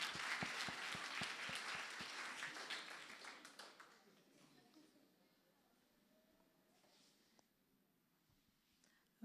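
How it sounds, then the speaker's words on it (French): An audience at a religious talk show applauds with dense, rapid clapping that stays strong for a few seconds, then fades into quiet room murmur. "Est-ce qu'on peut acclamer, s'il vous plaît?"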